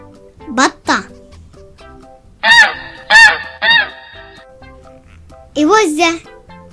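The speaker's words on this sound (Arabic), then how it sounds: "إوزة" A goose honks in a few short, sharp bursts, close and loud, set between a child's spoken words and light background music.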